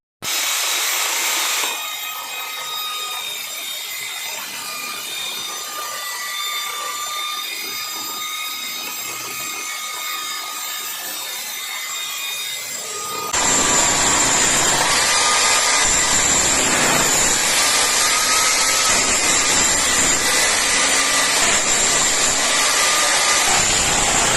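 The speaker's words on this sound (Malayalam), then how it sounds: "3500 RPM law load സ്പീഡുള്ള 12 inch guide ബാറുള്ള നമുക്കൊരു 10 ഇഞ്ച് ഭിത്തിയൊക്കെ ഈസി ആയിട്ട് മുറിച്ചു മാറ്റാവുന്ന ഒരു മെഷീനാണ്." Chainsaw with a 12 inch guide bar and 3500 RPM low-load speed cutting through a 10 inch wall, a steady whining saw drone that grows louder and rougher midway as the cut bites, no talk.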